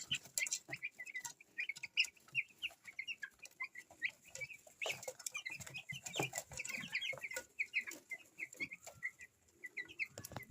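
A flock of 13-day-old broiler chicks peeps and chirps continuously. The high cheeping is quiet and overlapping, with occasional louder calls, and no one speaks.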